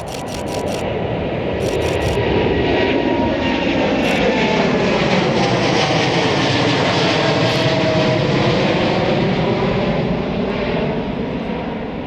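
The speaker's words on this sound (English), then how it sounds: "next aircraft is a Vietnam Airlines going to Hanoi" A Vietnam Airlines jet bound for Hanoi passes at Heathrow, its loud continuous engine roar sweeping through with shifting tones, while camera shutter bursts click at the start.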